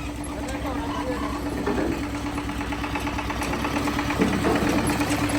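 A village jaggery unit's machine crushes homegrown sugarcane, running with a steady droning, rattling hum and a constant low tone, close and loud, with people talking over it.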